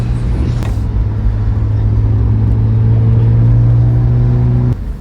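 BMW E46 M3 engine pulling hard under acceleration, a loud steady droning tone with rising harmonics heard from inside the car, cutting off abruptly near the end.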